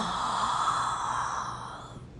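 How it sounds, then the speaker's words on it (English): A person gives a long, drawn-out yawn that starts full and breathy and slowly fades over a couple of seconds, heard alone and fairly quiet. "Just yawn it any day, any time."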